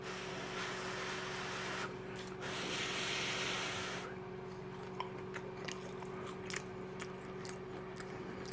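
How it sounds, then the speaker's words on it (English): Crunchy air-fried chicken, piping hot from a 10-quart Nuidk Healthy Choice AF506E air fryer, is bitten and chewed up close, with a dense crackling burst early on followed by scattered sharp crunches and clicks. "I know you can hear that crunch. This is fried chicken."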